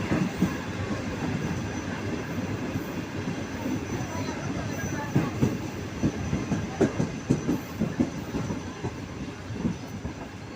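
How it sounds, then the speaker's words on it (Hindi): The Awam Express passenger train rumbles along steadily approaching Bin Qasim railway station, with wheel clatter picking up toward the end; fairly distant and moderately quiet. "बिन कासिम रेलवे स्टेशन के ऊपर 13 अप अवाम एक्सप्रेस अप्रोच कर रही है।"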